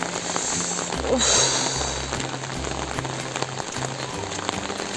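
Heavy mountain rain pours steadily onto a surface nearby, a dense, constant patter with a low musical drone running underneath.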